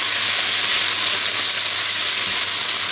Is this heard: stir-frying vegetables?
yes